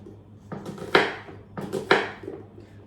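A knife slices a red onion on a cutting board in two quick clusters of sharp cuts, each ending in a firm tap on the board, close and clear with no talking.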